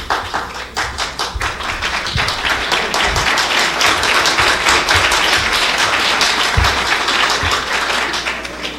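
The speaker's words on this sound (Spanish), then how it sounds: "evitemos al máximo los aplausos" Audience at a political debate breaks into sustained applause, loud and close, with many hands clapping in a dense rhythmic patter that swells and carries on for several seconds.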